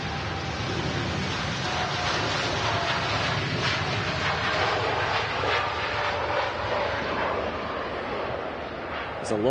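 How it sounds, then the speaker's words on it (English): A seven-year-old TUI Boeing 787-9 Dreamliner takes off at Manchester Airport, its engines a steady, loud broadband roar that holds for the whole stretch, with no talk over it. "There's a lot of runway being used by the TUI Dreamliner."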